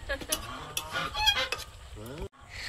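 Ducks call loudly, a burst of harsh, overlapping quacks and honks, then a brief silence before the noise picks up again.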